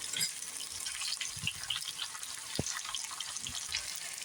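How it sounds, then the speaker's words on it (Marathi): Garlic and green chillies fry in a generous amount of oil for mirchicha thecha, a soft close sizzle with a few knocks and scrapes from stirring, no voices. "तर लसूण टाकून छान असायला परतून घेऊया."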